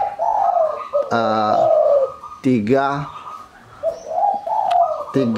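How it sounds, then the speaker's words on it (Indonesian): A tame spotted dove (tekukur) indoors gives rhythmic, repeated cooing calls in several bursts, close and clear, while someone talks between and over them. "3 jenis suara tekukur serta fungsinya"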